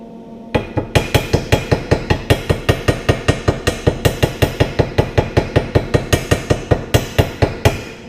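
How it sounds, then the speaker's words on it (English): A heavy weighted slag hammer strikes metal in a fast, steady rhythm, dozens of loud ringing blows in a row with no pauses. "Check out my newly upgraded weighted slag hammer,"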